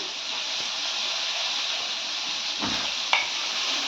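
Tomato added to a hot frying pan, giving a steady, fairly quiet sizzle of frying with soft stirring scrapes and one brief clink.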